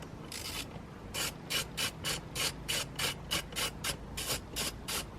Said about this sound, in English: I'm going to take one screw, put it in here.